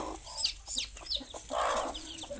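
Hen clucking near her newly hatched chicks on a Pondicherry poultry farm, a few short close clucks with soft higher peeps between, otherwise quiet.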